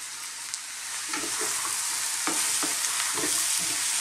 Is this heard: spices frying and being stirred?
yes